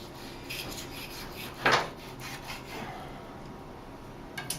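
A knife slices braised pork belly in half on a board, giving one short, close scraping thud with a few faint softer rubs around it against a quiet kitchen background.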